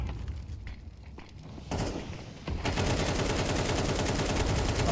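Rapid automatic weapon spray in the video game Counter-Strike 2 during a competitive grand final match, a dense sustained burst of loud gunfire that kicks in partway through after quieter game ambience and scattered footsteps.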